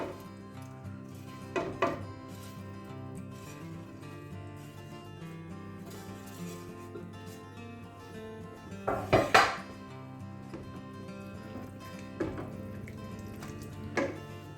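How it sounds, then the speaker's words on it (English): Chunks of butternut squash dropping into a cooking pot for a spicy cashew curry, heard as a few scattered clattering thumps over a steady background hum, with a tighter cluster of knocks in the middle. "we can go straight in now with our butternut squash."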